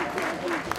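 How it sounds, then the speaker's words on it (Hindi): Audience clapping steadily to welcome film stars Hema Malini and Rekha at a birthday book launch for Ravindra Jain, a short burst of applause mixed with a voice speaking over it. "जोरदार तालियों के बीच"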